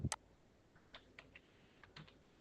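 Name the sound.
typing "paid" on computer keyboard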